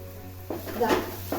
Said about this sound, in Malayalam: ഈ സാധനങ്ങളൊക്കെ ഒന്ന് വഴറ്റണം കുറച്ച് മതി കേട്ടോ എടുത്തു വെച്ചിരിക്കുന്ന സബോള ഇടുക പച്ചമുളക് ഇടുക